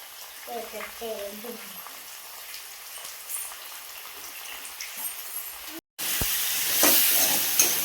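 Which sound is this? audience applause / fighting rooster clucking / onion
onion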